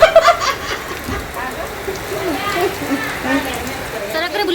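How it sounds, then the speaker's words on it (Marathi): Heavy rain pours down steadily as a wide, even wash of noise, with people talking over it throughout. "नंतर डायरेक्ट पाऊस यायला लागला"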